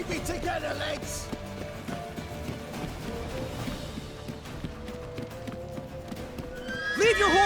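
A horse in The Witcher 3 whinnies and gallops with rapid clip-clop hoofbeats amid battle noise, while voices shout over the scene and a second neigh rises near the end.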